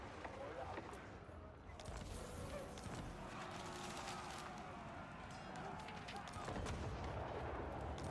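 Battle gunfire in the video game Total War: Warhammer 3 forms a dense, continuous roar of crackling shots and booms with steady loudness throughout.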